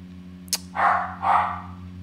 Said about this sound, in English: apologies for the dog